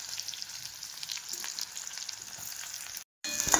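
Onion and garlic frying in a pan, a dense, steady hiss and crackle up close that cuts out briefly near the end before resuming.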